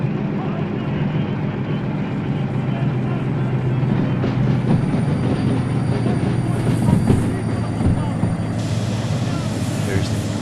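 A locomotive in the Derail Valley train simulator runs with a steady, loud low rumble, continuous mechanical roar and faint high squeals of wheels on rail.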